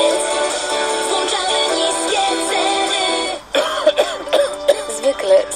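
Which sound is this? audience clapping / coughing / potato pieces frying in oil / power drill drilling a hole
coughing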